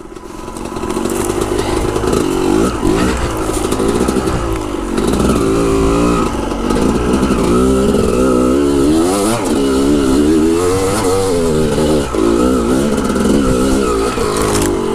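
Off-road dirt bike riding on a trail, the engine revving up and down loudly and continuously with rising and falling pitch, close to the microphone.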